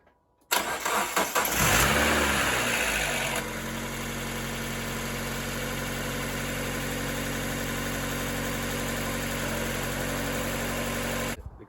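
A project car bought from a salvage auction cranks with a short burst of starter noise, then catches and settles into a steady, loud idle that runs on alone with a constant hum after a coolant and oil top-up.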